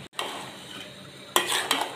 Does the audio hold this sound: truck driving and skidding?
no